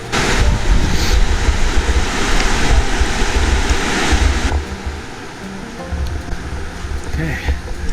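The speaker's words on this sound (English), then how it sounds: "now we're actually approaching the river" A river rushes near a forest trail in Robe Canyon, giving a loud, continuous broadband wash of water with wind buffeting the microphone, and it drops somewhat in level partway through.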